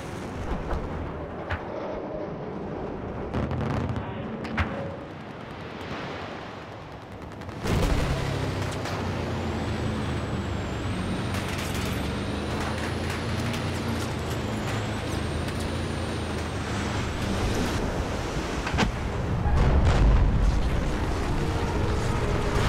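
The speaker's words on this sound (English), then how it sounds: "Not only does the destroyer bring down the building on C Point" Massive destruction event in Battlefield 4, a destroyer ship dislodged by heavy fire and crashing into a building at C Point, a sudden loud rumbling surge of crashing debris and explosions after a quieter stretch of gunfire, sustained to the end.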